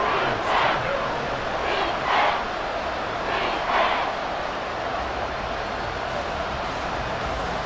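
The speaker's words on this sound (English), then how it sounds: "The Arrowhead crowd in full roar." In the Madden NFL 24 video game, the Arrowhead stadium crowd roars as a broad, continuous wall of noise, swelling in several waves early on before settling into a steady, dense din.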